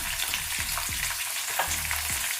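Green chillies and two dried red chillies fry in a pan of hot oil, giving a steady close sizzle with soft stirring scrapes throughout and no voices.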